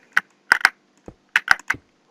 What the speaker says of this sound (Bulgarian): Мембранна ми е клавиатурата